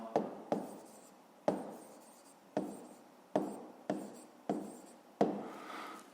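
A pen writing out a fifth-grade math solution by hand on paper, a series of short scratchy strokes repeating in an irregular rhythm, close and fairly quiet, with no talking.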